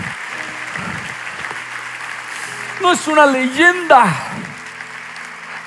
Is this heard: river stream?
no